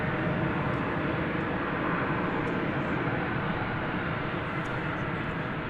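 An Embraer 175 airliner arriving at DFW Airport makes a steady, broad jet roar that holds at even loudness throughout, close and unbroken.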